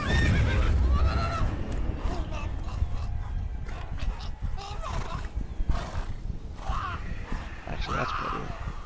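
Roach, Geralt's horse in The Witcher 3, gives several loud close neighs and whinnies over galloping hoof clatter, with a voice talking alongside.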